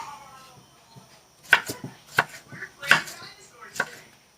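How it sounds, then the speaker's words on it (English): A knife cuts a tomato on a board for ackee and saltfish, five or six crisp, separate chops at uneven spacing, close and clear against a quiet kitchen. "let me cut my tomato up now"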